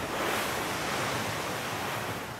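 Wind rushes and waves wash steadily around a sailboat running fast downwind under spinnaker, a loud, continuous broadband roar with buffeting on the microphone and no voices.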